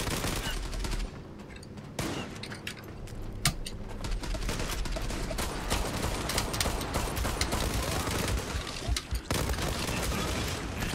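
Pump shotgun fire in the Zula online shooter, several sharp reports spaced irregularly across a busy, dense game soundscape of continuous gunfire and clatter.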